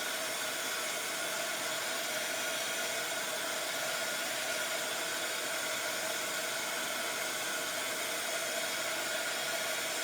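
Heat tool blowing hot air to melt embossing powder on a card, a steady close whooshing hiss held for the whole stretch with no talk.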